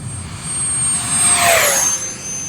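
An E-Flite Viper 70mm EDF model jet makes a speed run pass, its ducted-fan whine rising as it approaches and then dropping in pitch as it passes and recedes over about two seconds, heard alone outdoors.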